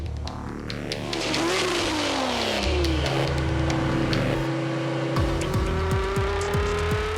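Several cars accelerate hard in an illegal street race in Dubai, engines roaring loudly and continuously with rising revs, overlapping exhausts and a pass-by, no voices.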